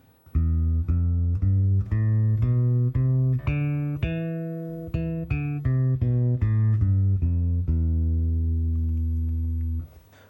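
A bass guitar plays a slow, evenly paced E Phrygian scale run of single notes, each ringing clearly before the next, with no voices.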